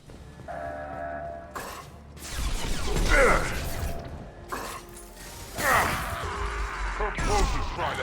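Heavy metal shutters grind and clank shut in the sci-fi game Mass Effect 2: repeated mechanical ratcheting, creaking and scraping bursts under a low machine hum, with talk and sighs between them.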